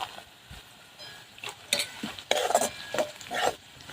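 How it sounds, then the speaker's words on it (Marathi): Peanuts and green chilies frying in oil with curry leaves over a traditional wood-fired stove, stirred in irregular scraping bursts against the pan amid light sizzling, close by. "दोन मिनटं परत तळून घेते आता शेंगदाणे पण मिरच्यासोबत"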